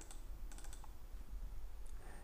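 Crisp, close computer mouse clicks come in a quick cluster, then a single click follows, faint and alone over quiet room noise while polyline items are drawn in software.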